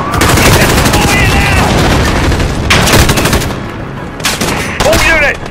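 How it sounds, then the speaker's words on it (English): Heavy automatic gunfire and rocket blasts in a Call of Duty: Modern Warfare campaign firefight, loud and continuous bursts of rapid shots that briefly thin out before resuming, with shouted voices mixed in. "They're shooting many rockets at us!"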